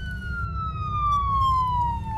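An ambulance siren wails in a long, slowly falling tone that holds steadily loud and close, carried over a low rumble of traffic and road noise, with no voices.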